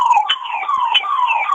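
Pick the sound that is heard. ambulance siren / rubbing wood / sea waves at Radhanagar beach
ambulance siren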